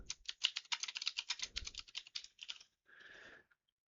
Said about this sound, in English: But you can type out a name.